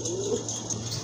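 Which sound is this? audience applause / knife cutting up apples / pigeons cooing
pigeons cooing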